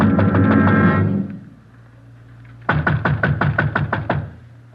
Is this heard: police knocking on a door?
yes